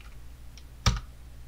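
A single sharp key press on a computer keyboard, as Enter is struck after typing a value, sounding as one brief close click in a quiet room.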